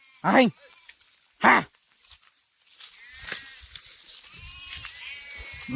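Two short, loud bleats from a sheep in a village pen, close and distinct, followed by quieter rustling and shuffling of the flock with faint background noise.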